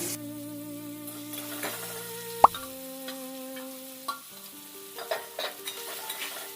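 Grated coconut and chopped tomato fry in a pan for thor ghonto, giving a soft sizzle with a few sharp clinks and taps of stirring over steady background tones.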